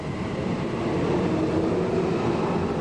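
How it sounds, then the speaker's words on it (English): Tokyo metro trains run with a steady, loud low rumble and rolling hum that holds even throughout, with no voices. "The 5 trains continue their journey towards Kasumigaseki and police headquarters."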